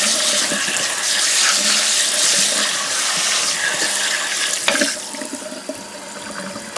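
Water runs hard from a kitchen sink tap while a greasy over-the-range microwave filter is rinsed and scrubbed under it, a loud steady splashing rush that eases off near the end. Nobody speaks.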